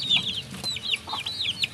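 A mother hen clucking near her chicks, with a series of short repeated calls and soft chirps against quiet background noise.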